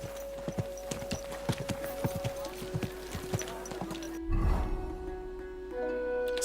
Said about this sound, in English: Stop fooling around on that horse.